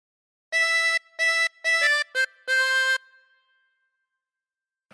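Five bright harmonica notes in a quick phrase, the last held a little longer before fading, played solo in a quiet room.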